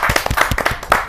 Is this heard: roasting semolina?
no